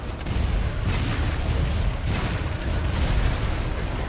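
A cannon fires in a video game, with heavy booms bursting out of a constant loud rumble and no voices.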